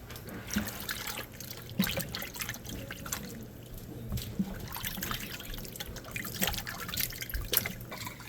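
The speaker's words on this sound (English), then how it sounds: "we're starting off the morning with washing tomatoes in the sink" Tomatoes being washed under running water in a kitchen sink, a steady faint trickle and splash with scattered drips and small knocks, continuous and fairly quiet throughout.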